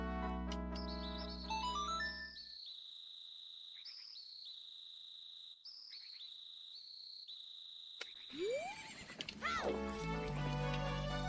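A horse whinnies in the video game The Legend of Zelda: Majora's Mask: a single rising and falling neigh near the end, after steady tonal game music and chimes.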